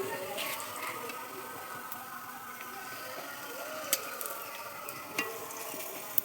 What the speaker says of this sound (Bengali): এখন আমি বড়াটা ভেজে নেব।